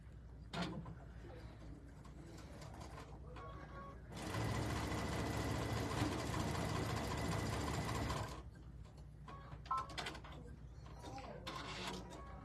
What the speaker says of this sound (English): So I'm gonna start sewing my strip sets and my 4 patches.